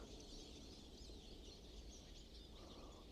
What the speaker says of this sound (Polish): Sikory latają